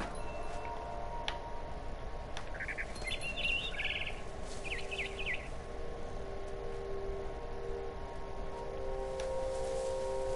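A scared barn swallow in a video game lets out a cluster of chirps midway, faint over a steady background hum with occasional ticking sounds.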